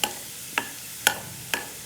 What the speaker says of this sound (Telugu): సో వాము ఒక 1 టేబుల్ స్పూన్ వాము యాడ్ చేస్తున్నాను.